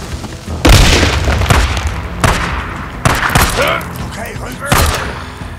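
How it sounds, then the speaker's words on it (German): A bomb explodes in Days Gone, a loud close boom followed by further heavy blasts and thuds spaced a second or so apart, with a voice heard between them. "Oh oh, Bombe."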